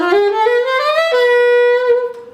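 A saxophone plays a short jazz scale line, clear and up close, moving through a few stepped notes before holding a longer tone that fades out at the end.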